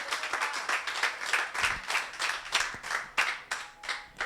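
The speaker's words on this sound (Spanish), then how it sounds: "Dale un aplauso al Señor" A church congregation claps and applauds in praise to the Lord during a Spanish-language worship service, a dense, steady patter of many hands with uneven surges, moderately distant and alone without speech.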